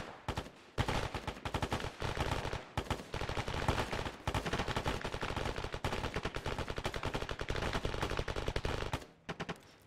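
Heavy video game gunfire from a team battle in wooded terrain: near-continuous automatic bursts and rapid overlapping shots, loud and dense, easing off briefly near the end.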